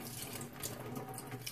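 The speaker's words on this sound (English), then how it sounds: "Rinse your fish thoroughly." Tap water runs steadily into a sink while raw fish is rinsed under it, a continuous close splashing stream with no voices.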